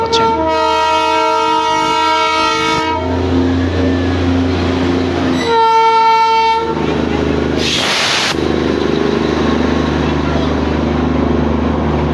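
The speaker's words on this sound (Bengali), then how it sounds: "আপনার ট্রেনের শব্দ শুনতে" A Darjeeling Himalayan Railway toy train sounds its horn at Batasia Loop: a long, steady blast of about three seconds, then a shorter second blast and a brief hissing burst, all over a continuous rumbling train noise.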